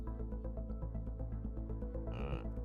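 Frogs in the video game Planet Crafter give a rhythmic, pulsing chorus of low croaks, repeating steadily and fairly close, with one louder raspy croak near the end and no talking.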